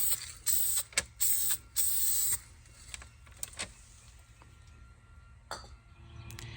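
Dupli-Color vinyl and fabric spray paint hisses from an aerosol can in several short bursts onto the dashboard of a Lexus IS300, close and crisp, followed by quieter clicks and handling noises.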